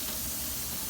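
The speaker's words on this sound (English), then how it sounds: "I'm just going to put it on here for a few minutes just to get some nice good grill and brown marks on it" A rack of pork searing on a hot Weber grill gives a steady, close sizzling hiss that holds constant for a brief moment with no talking.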